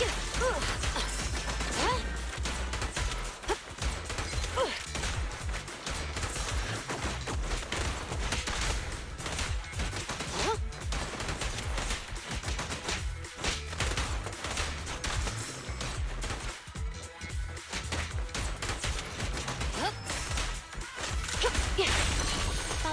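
Continuous gunfire and crashing impacts in the action game Zenless Zone Zero, dense rapid bursts with whooshes and explosions filling the whole stretch, loud and busy, with faint voice lines now and then.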